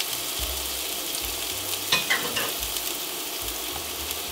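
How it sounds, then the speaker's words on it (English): Onions sizzle steadily in a hot pan, a close, even frying hiss with a couple of brief clinks of stirring partway through. "I'm gonna take my half a cup of onion and get that cooking."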